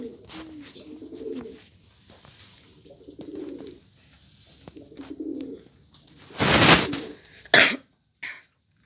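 A single loud cough-like burst from a person, followed by a short sharp throat sound, heard close over a background of cooing pigeons or doves in an indoor bird-keeping setting.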